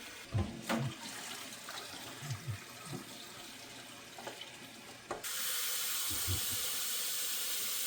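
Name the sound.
cold water pouring over boiled eggs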